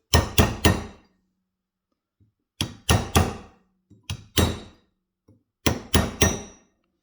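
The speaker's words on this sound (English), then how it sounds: "you can fix this by hammering it back like so" Hammer blows straightening a bent power-folding mirror part from a VW Golf MK4, struck in three quick bursts of three or so sharp, loud impacts each, separated by short pauses and small taps.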